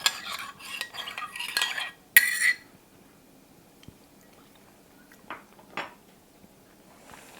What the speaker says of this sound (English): All right, I'm going to give this a quick stir.